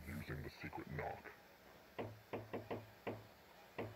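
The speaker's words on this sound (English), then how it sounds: "Knock on the door using the secret knock." A secret knock on a motel door in the video game Jazzpunk: a quick burst of several raps, a pause, then a spaced pattern of sharp knocks, close and dry, following a short stretch of muffled sound at the start.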